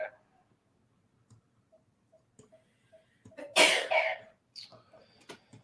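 A single sharp sneeze bursts out after a quiet stretch of soft ticking, followed by a few faint clicks and small noises.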